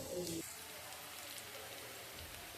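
Rice is washed in a bowl of water, giving a faint, steady watery swishing and trickling throughout with a brief sharper sound at the start.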